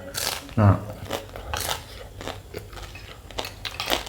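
Someone chews crunchy fried fish scales salted for flavour, with close, repeated crisp crunches and bites at an uneven pace while a person talks over them at times.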